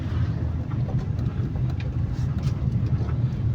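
A car engine runs steadily on a hill road during a driving lesson, a low continuous rumble with some road and wind noise, heard from inside the vehicle.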